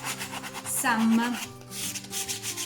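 A spatula scrubs across a wooden cutting board with a homemade scrub, giving close rasping strokes that rise into a louder scrape and then ease off.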